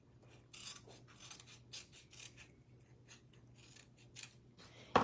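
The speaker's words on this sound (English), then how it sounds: "I think I'm going to cut this part off with my snips." Snips cut through card stock in a quiet room, a series of faint crisp snipping strokes spaced irregularly, with a low steady background hum and no talking.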